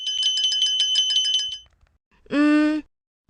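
A small shop bell rings in a quick repeated jingle for about a second and a half, followed after a pause by a single brighter ding; the ringing is close and clear, with no talk over it.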